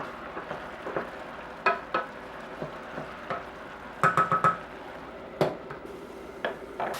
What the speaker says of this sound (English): let it boil for about 20 minutes until most of the liquid is dissolved and the apples are nice and tender